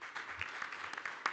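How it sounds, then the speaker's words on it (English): Brief, moderate applause from the audience at a Namibian oil and gas conference as the next speaker is introduced, a short burst of scattered clapping heard from across the room. "Please give a hand of applause to"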